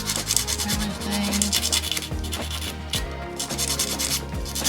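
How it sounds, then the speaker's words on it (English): A hand file shapes artificial nail tips with quick, close, rhythmic rasping strokes that keep repeating back and forth throughout the clip. "So now we're going to take our hand file."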